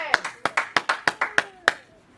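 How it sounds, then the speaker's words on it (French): A church congregation claps in a loose, uneven rhythm, about nine sharp claps spread over two seconds, each with a short echo in the hall, ending in a fading tail. No one speaks over it. "Acclamons l'éternel. Clap for the Lord."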